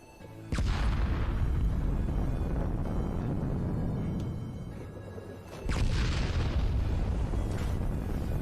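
Two heavy bomb blasts in Fallout 76, each a sudden loud broadband boom followed by a long rumbling tail, the second arriving about five seconds after the first, with no talk.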